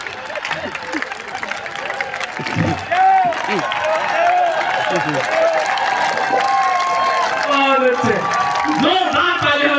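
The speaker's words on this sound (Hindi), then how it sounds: "जोरदार ताली बजा दीजिए भाई।" An audience claps and cheers at a live talk, a dense patter of hands rising after a few seconds and holding loudly, with voices and shouts mixed in among the applause.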